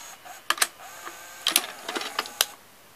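Orion VR0400 VCR straining to eject a tape, a sparse series of faint mechanical clicks and clunks with quiet gaps, close by and without speech.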